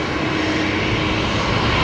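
Engines of an Airbus A330-200 airliner at Brisbane Airport, a loud, steady broadband roar with no breaks, heard alone without any voices.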